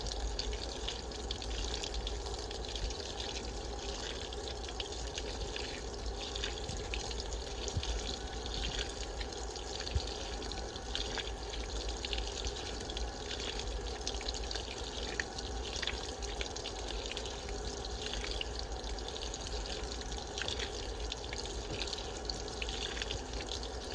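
Water pours steadily into a top-load washer, a model 725, set to a cold-tap towels cycle. The rushing, splashing fill stays constant and moderately loud throughout, with no speech.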